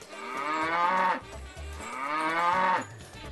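Cows in a village barn let out two long, loud mooing calls one after another, each lasting about a second with a short pause between, close by and with no voices.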